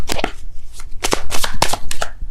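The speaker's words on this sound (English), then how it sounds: "Too many cards. One card for Virgo." A deck of tarot cards is shuffled by hand up close in quick, uneven bursts of riffling and sliding card edges, loud and continuous, with no voice over it.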